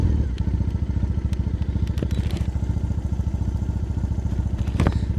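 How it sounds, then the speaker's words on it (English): A custom Triumph Bonneville motorcycle engine thumps steadily while riding through Tokyo, a loud, close, even low rumble with a few clicks and rattles on top. "And she's sounding great."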